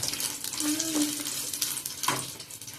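Onions sizzle and fry in a pan for Tondekai (ivy gourd) kadle gasi, a steady close hiss with stirring scrapes and a brief clatter near the end.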